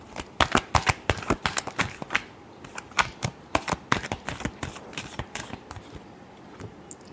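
Tarot cards are shuffled by hand in quick, crisp riffling bursts of close clicks and flutters, tapering off toward the end.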